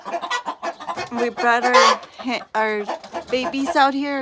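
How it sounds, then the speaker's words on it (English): Chickens cluck inside a hen house, short fowl calls mixed in and partly masked by a person talking close by throughout. "We're in the hen house trying to get these last few chickens out."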